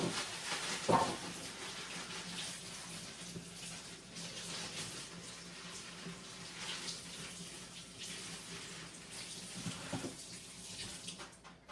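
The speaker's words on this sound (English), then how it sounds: "Carrots, you can just easily just rinse them off." Baby carrots are rinsed under a running kitchen tap, a continuous close splash of water whose flow shifts slightly as the carrots move, with no talking.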